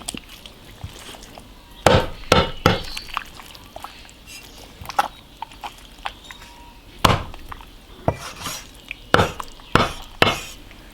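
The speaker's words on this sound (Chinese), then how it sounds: "啊，把那个牛蛋割下来。" A knife cutting off bull testicles for cooking, heard as a series of sharp, close chopping knocks on a board, irregularly spaced and clustered, over a faint background hum.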